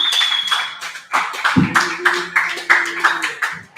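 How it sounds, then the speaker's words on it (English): Applause from an open mic comedy show audience, a loose scatter of claps that comes in uneven bursts and thins out, with a low hum and a voice heard over part of it. "Clap it up for Christian Hernandez."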